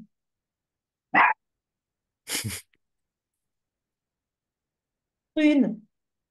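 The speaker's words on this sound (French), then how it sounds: "tu veux pas adopter un petit chien?" A small female puppy makes a few short, isolated yips and a sneeze-like snort, separated by stretches of silence and heard close by.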